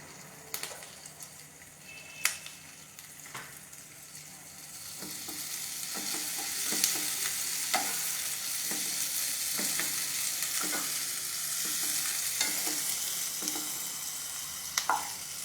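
Yellow and green capsicum frying in a pan, with a steady close sizzle and repeated clinks and scrapes of a spoon stirring, rising a little toward the end with no talk.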